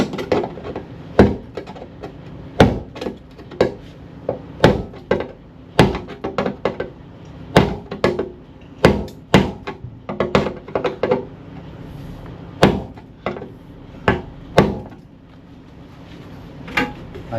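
Hammer blows strike the rusty bodywork of a classic Ford Fiesta, about twenty sharp, close knocks arriving in irregular bursts over roughly seventeen seconds in a quiet workshop.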